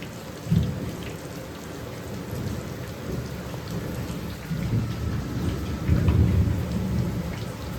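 Heavy rain pours steadily through a storm in Ahmedabad, with deep rumbling thunder rolling in close and loud several times, the strongest bursts near the start and toward the end.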